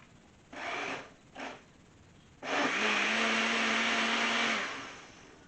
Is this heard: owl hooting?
no